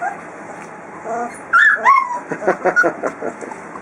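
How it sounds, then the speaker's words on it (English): Several Rhodesian Ridgeback puppies whimper and yip in short, high, overlapping bursts, a busy litter close by, with a faint voice in the background. "Lots and lots of puppies."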